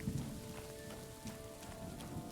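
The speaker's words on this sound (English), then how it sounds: "It's quite weak. The rain." Light rain patters on surfaces in a PC video game city at ultra settings, a faint, steady hiss of drops with a few soft tones underneath.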